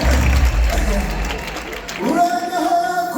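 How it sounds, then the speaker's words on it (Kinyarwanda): A concert audience at a show in Intare Arena breaks into loud, dense applause and crowd noise, which gives way after a couple of seconds to a voice rising over the hall. "wakomera amashyi menshi cyane"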